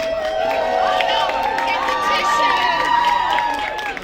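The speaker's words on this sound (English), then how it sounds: "let's hear a huge round of applause for them." Party crowd at a sweet sixteen celebration cheering and shouting together, a dense continuous roar of voices with whoops close by, applause mixed beneath the excited cheers.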